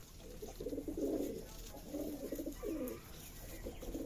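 Low, throaty pigeon coos repeat in several soft rolling phrases, close by at a Giribaj pigeon farm in Chapainawabganj, with faint background noise and no talking.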